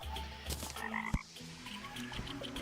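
Frogs croak as they spawn in a video game, a dense chorus of throaty, rhythmic croaks at moderate distance with one sharp click partway through, and no voices.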